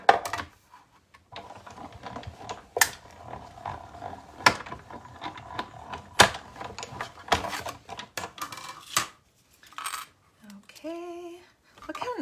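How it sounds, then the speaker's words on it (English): A manual die cutting machine presses paper flower and Happy Birthday dies, with a run of sharp clicks, knocks and mechanical rattles, a few louder snaps, and a brief squeaky creak near the end. "I'm going to die cut that at the same time"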